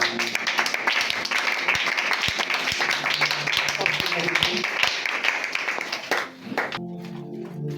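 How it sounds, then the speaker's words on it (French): A church congregation claps and applauds together in dense, steady applause for several seconds, with voices mixed in, before the clapping breaks off near the end. "Acclamons pour Jésus"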